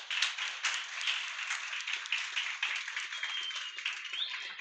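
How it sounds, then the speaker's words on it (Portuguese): Applause for the teachers, a thin patter of clapping from a modest group, slightly uneven in rhythm and heard at moderate distance without talk over it. "Palmas para os professores da casa."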